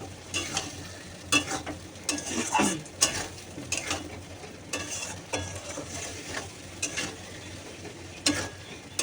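Spice paste with chili powder fries in oil in a pan, a low sizzle under intermittent scraping strokes of a spatula stirring it, close and moderately loud.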